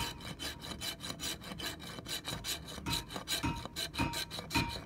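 A rasp files a splay-footed pony's hoof in steady rhythmic strokes, each a rough scraping rasp repeating about three times a second, close and clear with no talking.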